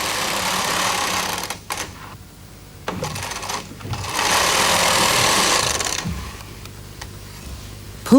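Carriage of a Bond Incredible Sweater Machine knitting two rows: a loud, steady mechanical rattle as the carriage slides across, a brief pause with clunks, then a second sustained pass, recorded close up.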